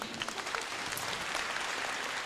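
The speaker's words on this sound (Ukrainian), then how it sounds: "Алкоголь, ці оплески для тебе." A live audience at a comedy stand-up show breaks into steady, full applause, dense and continuous clapping filling the room throughout.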